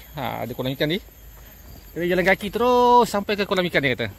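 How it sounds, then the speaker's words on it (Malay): Cicadas in an agarwood plantation that resembles a rubber estate, a thin, steady high-pitched drone running faintly beneath close conversational speech. "Bunyi sikada, bunyi apa? Riang-riang."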